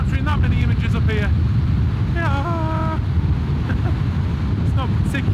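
Strong wind buffets the microphone on an exposed mountain near Ullswater and St Sunday Crag, a steady loud rumble throughout, with a few short voice-like tones breaking through.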